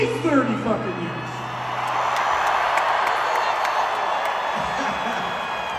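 A concert crowd at a show roars and whoops in a steady, dense wash of cheering, with a voice speaking over the start.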